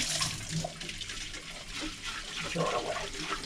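Running water splashes and swirls inside an empty plastic paint bucket during rinsing, a steady close wash with a faint voice partly beneath it.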